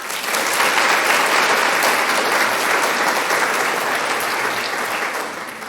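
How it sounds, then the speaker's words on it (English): A round of applause from guests at a scholarship banquet, dense steady clapping from a crowd sustained for nearly six seconds before easing off slightly at the end. "If we could get a round of applause."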